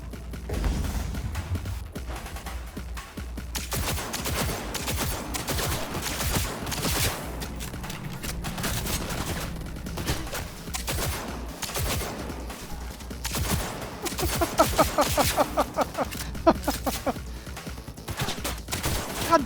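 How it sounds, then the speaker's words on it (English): Enemy gunfire in the video game Cyberpunk 2077, rapid bursts of automatic shots cracking over and over, loud and close, with a voice speaking in between. "he's shooting through the cover"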